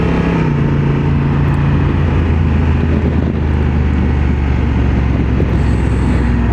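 A motorcycle accelerating on side streets, heard as a loud, steady engine and wind roar with a low droning tone that holds throughout, close to the microphone.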